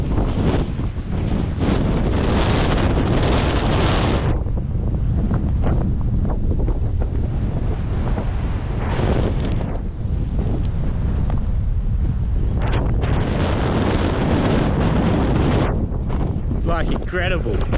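Heavy wind buffets the microphone in loud, rumbling gusts, swelling and easing repeatedly, with a voice speaking underneath at times.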